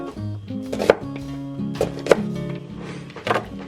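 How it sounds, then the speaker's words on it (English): Fresh garden onions being chopped with a knife on a board, with three or four distinct thunking chops spaced about a second apart over a steady low background hum. "I've got the onions all chopped up"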